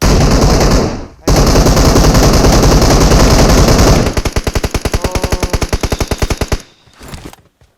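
Gunfire in the PUBG Mobile battle game starts as loud, dense automatic fire with one short break, then turns into a fast, evenly spaced run of separate shots before fading near the end.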